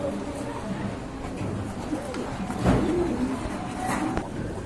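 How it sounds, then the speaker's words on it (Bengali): A pair of racer pigeons coo softly in a low, murmuring rhythm, with a steady background hum and occasional faint rustles. "খুবই চমৎকার এক জোড়া কবুতর"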